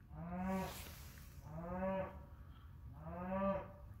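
Cows on a snowy pasture calling for hay, three long, drawn-out moos evenly spaced about a second and a half apart, moderately close with no talk.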